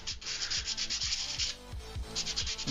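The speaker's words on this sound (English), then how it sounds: "nice, quick, rough sanding" Rough sanding of a 3D-printed part's surface before gluing, heard as a close, steady series of quick rasping back-and-forth strokes with a short pause partway through.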